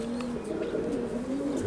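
White pigeons coo in a low, continuous warbling drone, close and steady throughout, with a faint wash of background noise.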